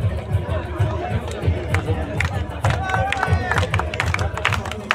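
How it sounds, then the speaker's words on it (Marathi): Crowd at a 2024 prize distribution ceremony claps in a busy, uneven patter under lively chatter and babble, with voices talking over the applause throughout. "अरे टाळा वाजवा"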